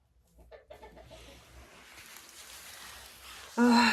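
Hens and roosters cluck in a poultry flock, soft and scattered at first, then building into a louder, closer burst of clucking near the end.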